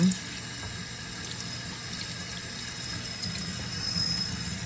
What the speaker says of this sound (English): We're just gonna rinse all of these.